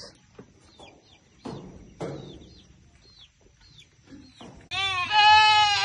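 Goats bleat on a farm, a baby goat among them, with scattered calls across the clip and chickens clucking in the mix; a loud, sustained nearby bleat closes it out.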